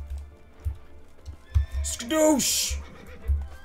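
Horses neighing in The Witcher 3, one whinny rising and falling for about half a second after a burst of game noise, with thudding game sounds and a shouted word from a man around it.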